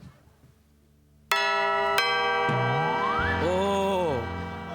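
An electronic doorbell rings out loud and close after a quiet start: sharp chime strikes followed by a bright, gliding melodic tune that rises and falls before fading slightly.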